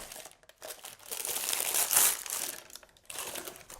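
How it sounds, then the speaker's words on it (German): A sheet of baking paper is crumpled by hand close up, giving dense crackling and crinkling that swells to a loud peak midway, pauses briefly, then resumes, with no voices. "Dieses nun ebenfalls zerknüllen."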